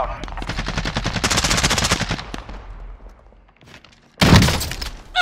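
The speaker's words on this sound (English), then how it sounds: "Ah, I'm taking fire!" Rapid bursts of automatic gunfire ring out in a Call of Duty: Modern Warfare firefight, a dense stretch of shots followed by a quieter gap and then a loud burst, with voices calling out over the game sounds.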